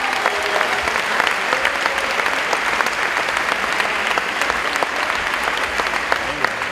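Sustained applause from an audience, dense and steady clapping filling the room throughout, with a little murmuring underneath.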